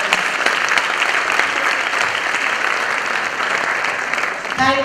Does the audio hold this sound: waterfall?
no